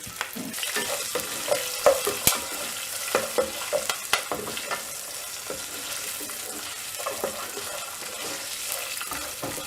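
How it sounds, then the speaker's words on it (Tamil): Green chili, ginger, coconut and tamarind are frying in a pan for mint chutney, with a constant close sizzle and repeated scraping and clattering of stirring running throughout. "இப்போது இதில் பச்சை மிளகா இஞ்சி தேங்காய் புளி இதெல்லாம் ஆட் பண்ணிவிட்டு இதை நல்லா ஃப்ரை பண்ணிடலாம்"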